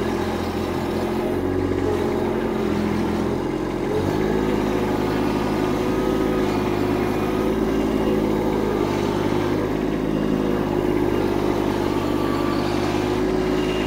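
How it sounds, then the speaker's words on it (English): A stuck tractor's engine labors at steady high revs while both back wheels spin in place, a continuous loud mechanical drone with a slight shift in pitch partway through, close by and without talk. "Both back wheels are spinning. And if I rock it back and forth,"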